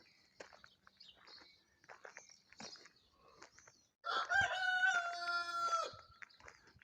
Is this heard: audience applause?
no